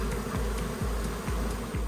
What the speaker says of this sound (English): These bees are really starting to test our patience now.